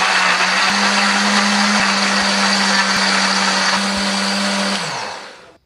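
A blender grinding chili paste with a little water whirs loudly and steadily for several seconds, motor humming with a gritty grinding texture, then winds down and stops.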